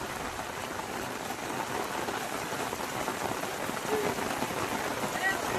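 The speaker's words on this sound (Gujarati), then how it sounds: "જો આજે હજી પાછો વરસાદ શરૂ છે" Steady rain in a village, lasting many hours, falls evenly on surfaces as a constant moderate patter that grows slightly louder toward the end, with no break.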